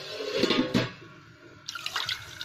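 Water from a glass is poured into a pan of mutton being cooked for curry, making a brief splashing rush followed by lighter trickling and sloshing, close and fairly loud.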